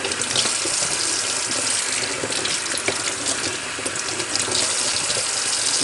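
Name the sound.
rinsing sea moss in a strainer under running tap water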